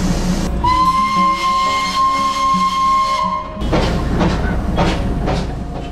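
A Darjeeling toy train steam engine sounds a sustained, loud whistle for about three seconds, then rhythmic chuffing and rumbling take over close by.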